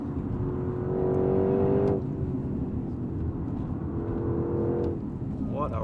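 A 2025 Porsche Cayenne GTS Coupe engine, heard from inside the cabin, climbs in pitch to redline, drops back, then climbs again in a second rising pull over a constant road and cabin rumble.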